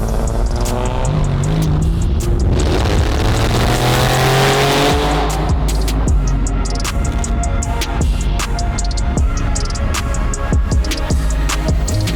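A powerful Porsche 911 (997) engine roars and revs hard, climbing through gears with loud, continuous acceleration and road noise, close and sustained throughout.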